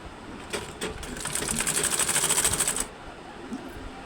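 A sewing machine stitches a folded fabric cross belt in a quick, close burst of rapid rhythmic needle clatter lasting about two seconds, with a few soft handling taps before it.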